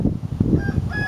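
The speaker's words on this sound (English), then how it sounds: "Did you hear the chicken?" A short, loud clucking call from a chicken, close by, with outdoor background noise.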